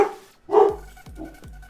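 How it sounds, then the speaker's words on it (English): A pet dog indoors barks several times in quick, loud, close bursts, each followed by a short pause. "My dog's about to freak out."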